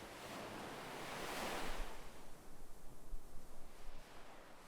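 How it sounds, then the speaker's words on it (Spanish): Ocean waves rolling gently onto a beach, a soft continuous wash of surf swelling and receding, with a faint breezy hiss, no voices. "Las olas avanzan suavemente hacia la orilla, con un ritmo lento y constante."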